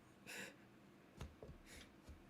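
A person sneezes during a tabletop role-playing game session, with a couple of sharp, breathy bursts and a short snort-like catch between them, close and moderately loud.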